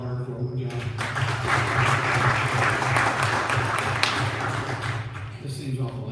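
A city council meeting audience applauds the treasurer, a sustained round of many hands clapping heard over a steady low hum, with voices mixed in.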